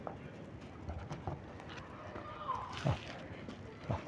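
Domestic pigeons stirring as they are let out of a rooftop loft, soft cooing and fluttering against a quiet outdoor background, with a couple of louder wingbeat or scuffle bursts near the end.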